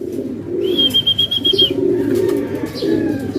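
Pigeons coo in a steady low rolling murmur, close and continuous, with a thin high chirp or whistle rising briefly above it.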